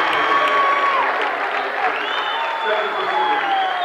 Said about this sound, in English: And now the Vincennes crowd is applauding the officials for that